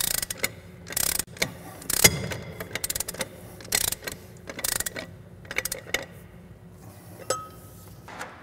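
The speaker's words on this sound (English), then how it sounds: "At this point, we're going to use a torque wrench." A torque wrench clicks and ratchets in irregular bursts as a bus wheel and hub assembly is rotated during a brake reline and wheel bearing adjustment, with metallic clinks up close.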